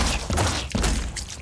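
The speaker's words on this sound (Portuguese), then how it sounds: "Vou atirar nesses caras aqui então." Rapid, dense bursts of gunfire in the video game Phoenix Point crackle continuously, loud and close, with no pauses or voices.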